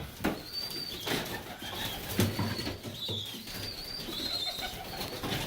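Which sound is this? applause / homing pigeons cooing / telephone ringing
homing pigeons cooing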